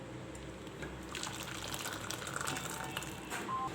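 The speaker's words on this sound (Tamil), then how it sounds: "இப்போ இந்த பாசி பருப்பு பாயாசத்தை ஒரு பாத்திரத்தில் மாற்றிக்கலாம்." Moong dal payasam is poured from a pan into a serving vessel, giving a steady liquid pour and trickle over quiet kitchen background.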